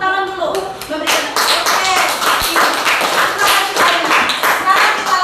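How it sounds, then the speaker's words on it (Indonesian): A class claps together after three student groups finish presenting, the clapping loud and dense, mixed with voices talking over it. "Yuk kita tepuk tangan dulu."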